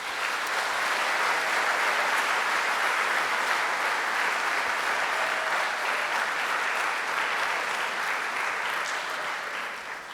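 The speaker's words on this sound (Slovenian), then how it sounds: "En aplavz, prosim." Steady audience applause at a children's singing and dance festival, with sustained even clapping from a large crowd lasting about ten seconds before it slowly fades.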